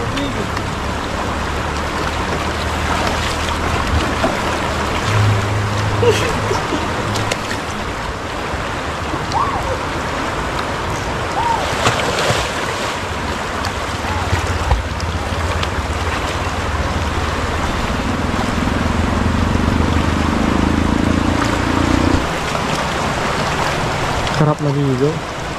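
River water flows steadily at a campsite in Daraitan, Tanay, Rizal, a constant loud rushing wash with splashes, while people talk over it.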